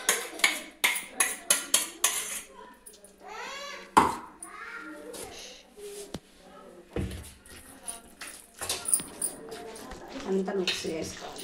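Brinjal chili paste being mixed in a bowl, with clinking spoon-on-dish sounds, scraping and a few knocks, under some speech in a home kitchen.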